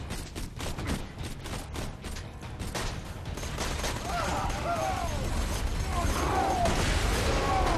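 Rapid bursts of gunfire and explosive blasts from a firefight in the Borderlands 2 shooter game, dense and loud at first, then settling into a steady wash of battle noise with warbling effects.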